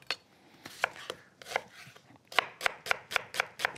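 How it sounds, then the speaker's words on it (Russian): A knife chops an onion on a cutting board in uneven taps, first sparse, then a quicker run of about eight sharp, close chops. "Я, собственно, так весьма вольготно сейчас нарезаю лук,"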